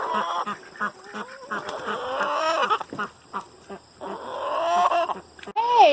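Chickens and ducks on a homestead cluck, squawk and call busily up close in a lively barnyard chatter with no talking.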